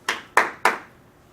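Three sharp hand claps in quick succession, close and crisp, each with a short decay, made to set off an atomic force microscope during landing.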